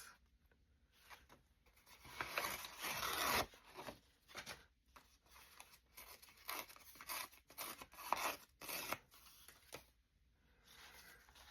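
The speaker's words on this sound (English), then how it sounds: "Ripping this paper is so satisfying." Paper ripped by hand for layered craft pieces, a series of dry tearing bursts, some long and drawn out, others short, close and fairly loud with brief pauses between rips.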